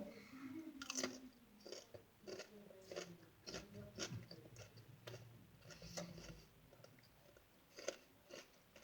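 Close, crunchy chewing of cucumber sprinkled with lots of sugar, in irregular bites and munches with no talk over them.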